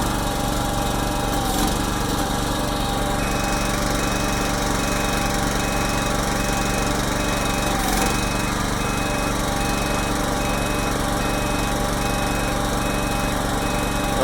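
A Faymonville Megamax trailer's rear axles steering under power: a loud, continuous hydraulic pump and engine drone with a thin steady whine above it and a couple of brief clunks, close by and without talk.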